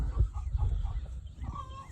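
Chickens cluck softly in short, scattered bursts in a poultry pen with ducks, over a low, rumbling outdoor background, fairly distant and quiet.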